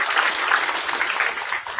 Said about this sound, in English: Let's acknowledge this thoughtful gesture with a big round of applause